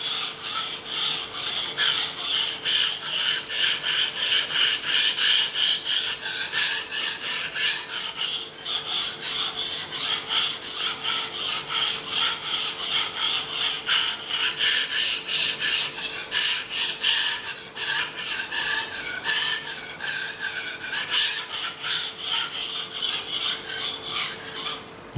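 A Japanese Nihonto nakiri knife, 60-62 HRC, is polished on whetstones with light pressure, giving a steady, rhythmic scraping rasp of quick back-and-forth strokes that continues evenly throughout.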